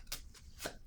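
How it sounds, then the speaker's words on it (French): Playing cards handled on a table, with a few quick crisp slaps and swishes as a card is laid down, close and fairly soft, no talking. "je vais déposer une autre carte ici"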